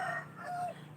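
A pet rooster clucks close by, giving a couple of short bright calls over a low steady hum.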